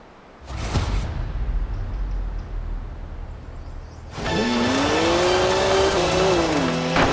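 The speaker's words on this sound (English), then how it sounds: "Oh, a BMW 1M. Great car." A BMW 1M in the racing game Forza Horizon 4 idles with a low rumble, then revs hard and accelerates loudly, its engine note climbing and holding steady through gear changes, with no voices.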